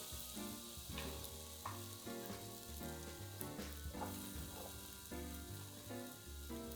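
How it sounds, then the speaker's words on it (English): Chopped onions hit a big olive-oil skillet and sizzle loudly and steadily, a constant crackling fry with faint stirring and no talking. "so then we're just going to put our onions in here."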